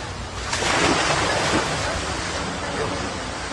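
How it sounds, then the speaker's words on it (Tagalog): Strong sea waves pounding a seawall along the shore during heavy rain and stormy weather, a loud continuous roar of surf swelling early and then washing on steadily, close and rough with wind noise. "Malakas ang hampas ng alon"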